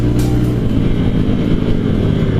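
A loud, steady motorcycle exhaust drones close by with a deep, throaty rumble and no pauses.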